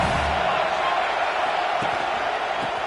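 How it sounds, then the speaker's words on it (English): A football stadium crowd roars steadily during the final possession, a dense, continuous wash of cheering with no break. "Crowd now trying to make a difference here in the final possession."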